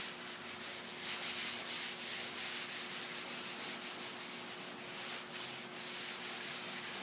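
Barkeeper's Friend scrubs the patina paint of a 1954 Studebaker in quick, steady back-and-forth rubbing strokes, a close, gritty rhythm that keeps a constant hum beneath it.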